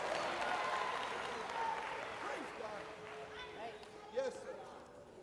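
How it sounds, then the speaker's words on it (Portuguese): Applause and cheering from a congregation at a sermon, a broad crowd sound mixed with voices, moderately distant and gradually thinning. "Dê um aplauso a Deus"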